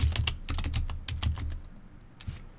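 Someone types on a computer keyboard in Windows 10, a quick run of close, crisp key clicks in an uneven rhythm that slows and thins out toward the end, with no talking.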